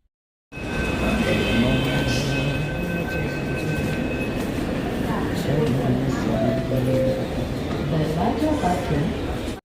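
Inside a moving metro train, a steady loud rumble of wheels and carriage noise runs throughout, with faint tonal whines from the motors and a voice speaking over it.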